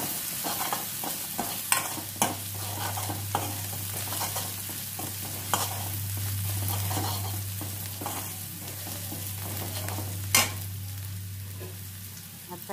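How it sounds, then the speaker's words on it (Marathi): A spoon stirs a peanut curry for fasting days in a pan over a steady low sizzle, with sharp scraping clicks at irregular intervals and a constant low hum underneath. "दोन मिनटं एकजी करून घेऊ."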